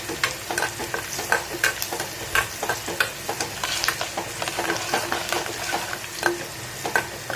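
Chopped garlic and curry leaves sizzle in hot oil while a spoon scrapes and stirs the pan in a steady rhythm for dal khichdi, with crisp clicks over the constant frying hiss and no talk.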